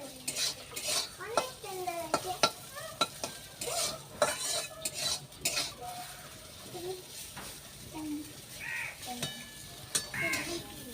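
Garlic, green chilies and boiled kharkol leaves fry in a pan. There is a soft sizzle, and a utensil scrapes and clatters against the metal again and again. A person talks now and then over the cooking.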